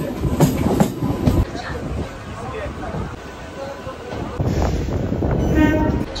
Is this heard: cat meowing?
no